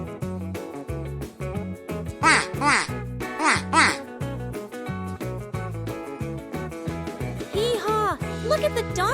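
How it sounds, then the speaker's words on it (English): A farm duck quacking in a repeated series of nasal calls, mixed into a bright children's music track with some voice-like sounds around it. "Say hello to the duck."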